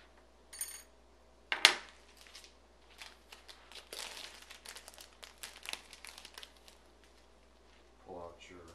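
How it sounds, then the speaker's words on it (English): Tape is peeled and crinkled off balsa model airplane parts from an RC plane kit, making sporadic soft rustles, a sharp crackle early on, then a run of small crinkling bursts, close and quiet. "Just pull the tape off these pieces."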